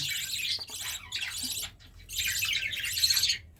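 Budgerigars, a pair kept with four chicks, chirp in quick high-pitched twittering bursts, close and fairly clear with brief pauses between flurries and no talking.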